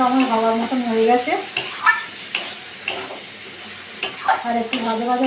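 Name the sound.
frying and stirring leafy greens in a pan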